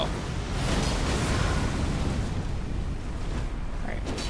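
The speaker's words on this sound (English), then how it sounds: "Stay away from that big explosion that I just got smashed by." Big explosion in Elden Ring, a heavy rumbling blast with a long roaring tail that fades gradually, with a voice talking over it.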